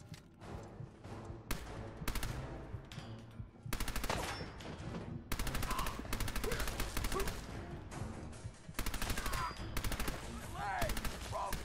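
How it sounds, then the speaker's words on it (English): Armor piercing SMG gunfire in Fallout 4, with rapid sustained automatic bursts crackling almost continuously and only brief pauses between volleys, loud and close. "armor piercing SMG"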